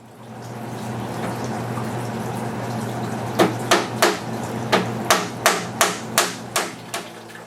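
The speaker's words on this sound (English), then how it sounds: "I nailed the plywood onto the rails just to keep it from sliding around" Nails hammered through plywood into wooden rails while building a fry rack: about ten sharp, evenly spaced strikes over a steady low hum, loud and close.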